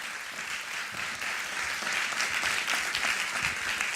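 Steady applause from a lecture audience in Lille, dense and sustained throughout at even loudness, with no voices over it.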